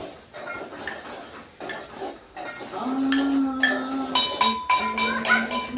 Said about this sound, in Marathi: घाटून घे मीठ टाकल्यानंतर